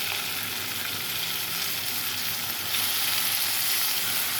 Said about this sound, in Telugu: ఇప్పుడు దోసకాయ ముక్కలు వేసేసుకుంటాను